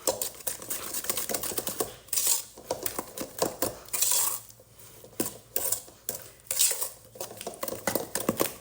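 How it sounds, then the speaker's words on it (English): Vanilla bean paste being stirred into cookie dough in a bowl, with irregular spoon scrapes and taps on the bowl coming in uneven bursts, close and moderately loud. "And then you just mix this in fully."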